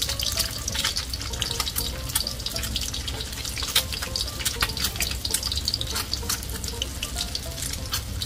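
An egg fries in a pan with a steady, faint crackling sizzle and scattered sharp pops.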